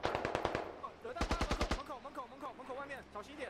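Gunfire in a tactical multiplayer shooter match, with a rapid burst of automatic fire followed by more shots under a commentator's voice.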